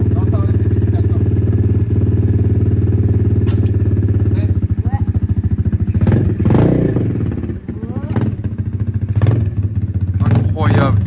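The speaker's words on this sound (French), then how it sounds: "Vu que vous avez réussi à démarrer la moto" A motorcycle engine runs close and loud with a rapid, throbbing idle, then gets several sharp revs with thumps and clatter, while excited voices talk over it.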